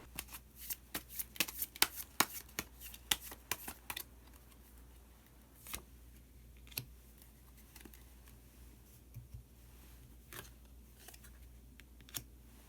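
Tarot cards being shuffled and drawn at close range: a run of crisp riffling snaps and slaps, then sparser single flicks as cards are laid down, with no talk over it.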